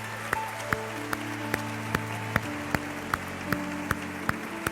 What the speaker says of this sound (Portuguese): E se você crê, aplauda bem forte ao Senhor nessa noite.